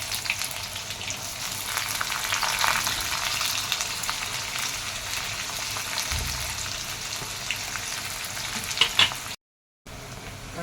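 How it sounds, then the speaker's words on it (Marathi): Onion dropped into hot oil already holding mustard seeds, cumin and curry leaves for a mixed sprouts usal; a steady close sizzle and frying hiss runs throughout with light stirring, briefly cutting to silence near the end. "त्यानंतर आपण कांदा टाकून घेणार आहोत."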